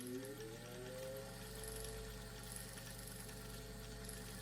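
Singer 201 sewing machine winding a bobbin under foot-pedal control, a steady, even motor whir with a soft mechanical hum that holds constant throughout, fairly quiet and close.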